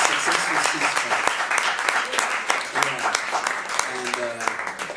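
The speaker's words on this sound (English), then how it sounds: "Can we get a little clap for the ceasefire that happened this weekend?" A small live music audience claps for a few seconds, a dense patter of hands with a voice speaking over it.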